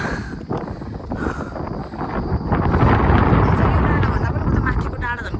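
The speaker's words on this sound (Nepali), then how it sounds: "उडायो हावाले उडायो हावाले" Strong wind gusts across a misty, cold hilltop, buffeting the microphone with a loud, rumbling roar that swells and stays heavy through most of the stretch.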